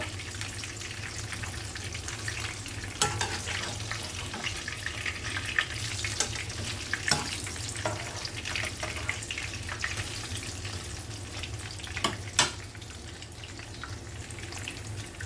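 Paneer cubes fry in a pan, producing a quiet, steady watery sizzle with a few sharp pops and crackles scattered throughout.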